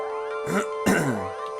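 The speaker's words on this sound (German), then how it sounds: "Schlimm mit dem Husten, ohne Witz." A person coughs and clears their throat in two short rough bursts over steady game music, close and fairly loud.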